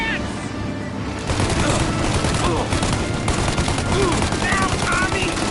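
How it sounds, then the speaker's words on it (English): Sustained enemy gunfire in Mafia Definitive Edition, a dense crackling fusillade of rapid machine-gun shots that builds after the first second and continues loudly, with voices shouting over it. "Shoot out the gun when there's a break in the fire!"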